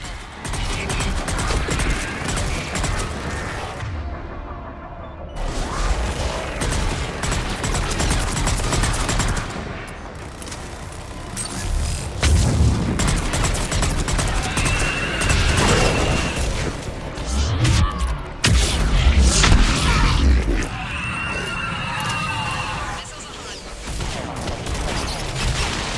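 Missile strikes and gunfire in the Mass Effect 3 video game: loud, rapid bursts of automatic fire and heavy booming impacts that repeat in waves, with brief lulls between volleys.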